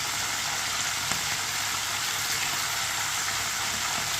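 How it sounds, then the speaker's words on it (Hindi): Chicken pieces frying in a pan of oil, a steady, even hiss of sizzling throughout with a few faint pops and no voices. "चिकन को ये वाली साइड से 2 मिनट के लिए फ्राई होने देते हैं।"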